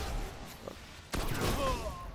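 Automatic gunfire from a machine gun in the Destiny video game, Trials of Osiris mode, bursts out suddenly after a quieter stretch and rattles on to the end, fairly loud over a faint background.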